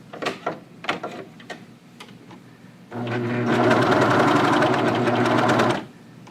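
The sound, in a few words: serger sewing a jogger cuff onto a pant leg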